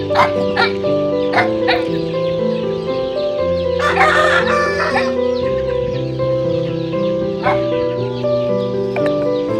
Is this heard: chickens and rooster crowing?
yes